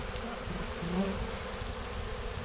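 Honeybees buzzing at a hive during a swarm recovery, with a steady close hum lasting throughout and no voices.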